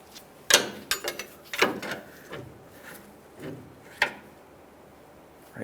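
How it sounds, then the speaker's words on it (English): Front lower control arm nut on a 2015-2020 Ford F-150 being tightened by hand, with a few sharp metallic clicks and clunks at irregular intervals, close and fairly loud with quiet gaps between. "then we'll continue on by holding the bolt head and tightening the rearward nut"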